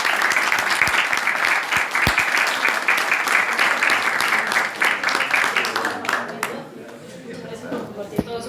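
Seminar audience applauding a speaker after a talk on public construction contracting, dense steady clapping filling the room for about six seconds before thinning into scattered claps and faint murmuring.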